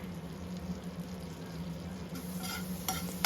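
Chopped garlic frying in melted butter in a pan, a soft continuous sizzle with faint stirring, close but fairly quiet.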